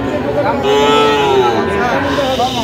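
A Sahiwal bull at a busy cattle market lets out one long, deep, drawn-out moo close by, over a constant background of crowd noise.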